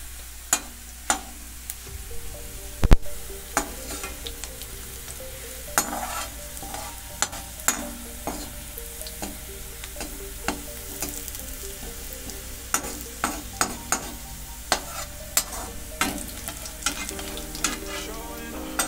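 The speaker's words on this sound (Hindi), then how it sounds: "देखे ये थोड़ा सा ब्राउन ब्राउन होने लगी हैं प्याज" Onions frying and turning brown in a pan make a continuous sizzle, punctuated by many sharp clacks and scrapes from stirring, with no talking.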